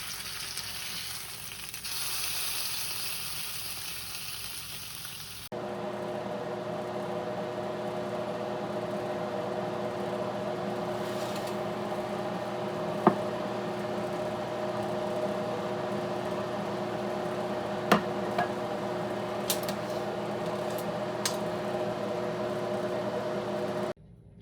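Bear meat searing in a hot pan for a bear Wellington gives a loud, steady sizzle that runs unbroken throughout, with a few sharp pops and ticks, and no talking.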